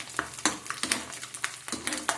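Small coconut pieces fry in very hot oil, giving a steady crackling sizzle broken by sharp clinks of a spoon stirring against the pan.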